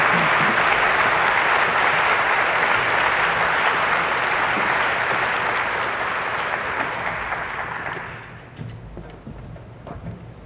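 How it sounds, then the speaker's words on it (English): An audience at a general session gives a round of applause for a book award runner-up, dense clapping that holds strongly for several seconds, then thins out and fades near the end. "I'd like you all to give a round of applause for our runner-up"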